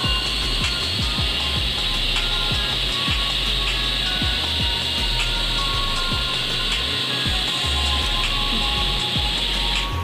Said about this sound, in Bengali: চিনি দেওয়ার পর ফের ব্লেন্ড করে নেব।